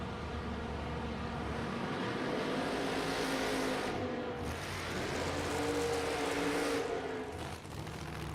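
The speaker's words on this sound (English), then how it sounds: "Justin Malott with the 57 Chevy" A 57 Chevy funny car drag races at a Texas motor speedway, its engine a distant, buzzing, wavering drone that swells and dips over several seconds with crowd and track noise around it.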